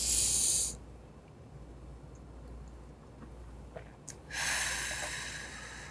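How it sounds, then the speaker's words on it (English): A sharp, loud inhalation opens the moment, then near silence, followed by a second strong breathy rush near the end, close and alone after wine tasting. "you take a deep breath."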